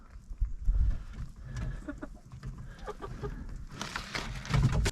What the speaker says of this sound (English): my chickens are happy. They're healthy.